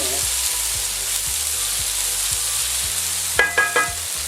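Cherry tomatoes sweating gently in a pot, a soft continuous sizzle with light knocks and a few sharper clinks of stirring near the end.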